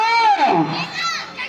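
Crowd at a bull pulling competition, a loud close burst of overlapping shouting and yelling voices.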